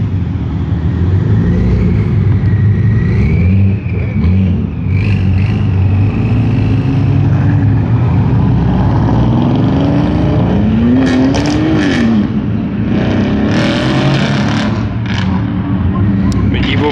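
A turbocharged BMW M4 and a Mercedes CLS 63 AMG rev and pull away at a car meet with police nearby, the turbo whine rising over the exhaust. The engines roar loud and close throughout, and voices talk underneath.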